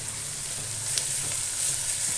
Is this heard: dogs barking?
no